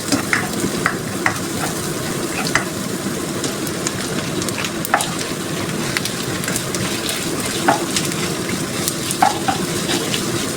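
Minced pork and garlic sauté in a pan with a loud, continuous sizzle, broken by occasional scraping stirs and small pops, no voices over it.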